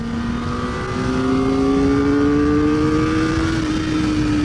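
A 2023 Kawasaki ZX4RR motorcycle engine on the move, its high-pitched inline-four note climbing steadily as it revs up through the gears. Loud and close, with continuous wind rumble underneath and no talking.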